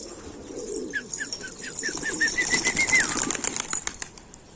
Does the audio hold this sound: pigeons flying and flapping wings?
yes